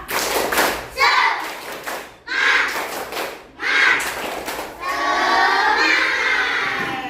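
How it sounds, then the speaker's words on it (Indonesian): A classroom of children does a rhythmic spirit clap, with three short bursts of patterned clapping separated by pauses. Then comes a longer stretch of chanting voices and clapping, loud and close. "Sebelum duduk, tepuk semangat"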